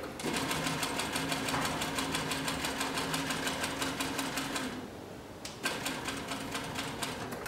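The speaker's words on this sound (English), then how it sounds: "we're going to go ahead and sew with it a little bit" An 8810 shoe-making roller sewing machine stitches through two layers of roughly 3 to 4 ounce leather with a fast, even needle chatter and motor hum, close and loud. It stops briefly near the five-second mark, then starts again.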